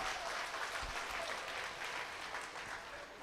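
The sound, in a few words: applause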